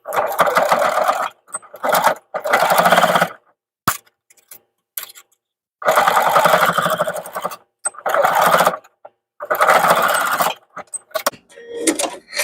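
A sewing machine stitches a small fabric keychain in several bursts of steady whirring, each a second or more long, separated by short pauses.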